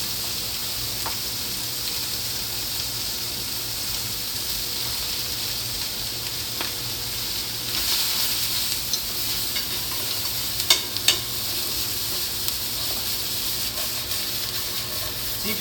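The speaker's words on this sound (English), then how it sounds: "So now I'm going to add my vegetables, because I want to kind of saute those a little bit." Fish and vegetables sautéing in a pan make a steady broadband sizzle and hiss with a few brief stirring knocks near the end, close and constant, without talk.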